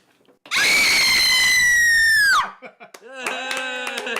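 A loud, sustained scream lasting about two seconds at a party, followed by excited chatter and laughter from a group.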